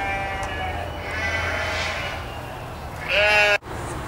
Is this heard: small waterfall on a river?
no